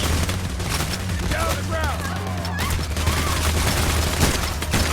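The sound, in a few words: gunfire in the video game Payday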